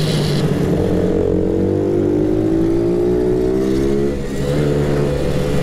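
Mini motorbikes racing, several small engines revving loud and close, pitch rising steadily, easing off briefly near the end, then droning on.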